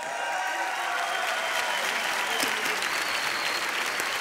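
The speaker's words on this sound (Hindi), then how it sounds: "जोरदार तालियां हो जाए।" An audience breaks into sustained applause at a televised celebrity chat show, a dense, even wash of clapping from a crowd that continues without pause.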